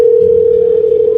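A telephone tone sounds as a mother rings her son: a single loud, steady, unbroken beep that holds close and clear throughout, with no voices.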